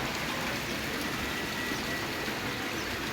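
Rain falls steadily in a dense, even hiss, constant and fairly loud throughout with no pauses or voices.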